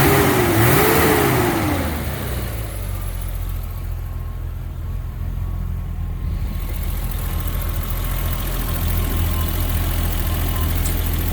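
A cold BMW 320i engine revs briefly, then settles into a steady, smooth idle with a low continuous hum, close and fairly loud.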